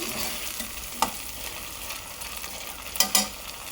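Moong dal frying in a pan gives a soft, steady sizzle, broken by a few sharp stirring scrapes near the one-second and three-second marks. No voices.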